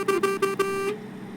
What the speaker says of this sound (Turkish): Bakalım havalı kornası var mı? Acayip havalı kornası var abi.